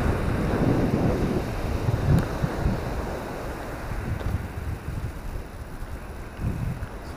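Wind buffets the microphone while sea waves wash and surge in the background near a pier at Cromer on the Norfolk coast in November, in rough gusty bursts.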